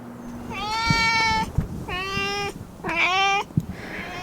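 A friendly street cat in Nagasaki meows three times in a row, close and fairly loud, each call drawn out and rising slightly, with soft thumps and outdoor ambience between the calls.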